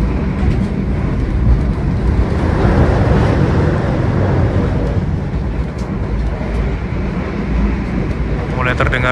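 Riding inside the KA Jayakarta train, a loud continuous rumble of wheels on rails fills the cabin, with steady roaring noise throughout.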